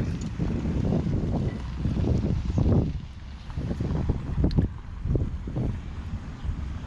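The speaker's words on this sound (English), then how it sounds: "A little windy today." Wind buffets the microphone in low, gusty rumbles that rise and fall, with no voices present.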